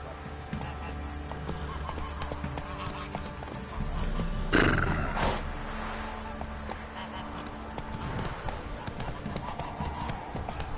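Roach the horse gallops in The Witcher 3, with steady clip-clopping hooves throughout, a loud whinny midway, and ambient game sound beneath.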